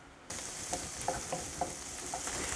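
Onions and garlic sautéing with oregano for a turkey meatloaf, a soft, steady sizzle that starts abruptly and carries on with faint, occasional stirring taps in the background.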